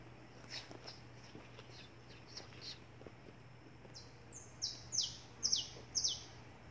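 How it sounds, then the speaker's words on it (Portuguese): After a few seconds of quiet rural outdoor ambience, a small bird, a canary, sings a run of short, high, repeated chirps, fairly close. "Escuta o canto do passarinho."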